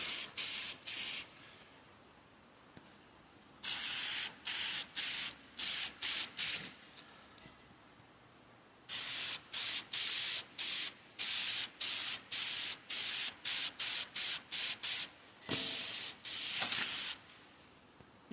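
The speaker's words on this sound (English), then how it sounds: "Hit it with that aerosol cover pass" Short repeated hisses of an aerosol spray paint can applying a coat, pulsing in quick bursts with a few longer pauses, close by and fairly quiet.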